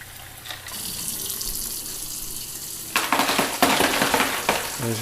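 Tap water runs into a container holding ice, measured out by the gallon for brining a pork loin; a steady rushing pour grows louder and splashier partway through, with no talk over it.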